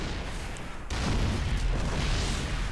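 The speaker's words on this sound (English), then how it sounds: "He does finally get a siege tank deployed." A StarCraft II siege tank fires artillery. A single deep boom hits about a second in, then a rumbling, noisy roar that stays loud to the end.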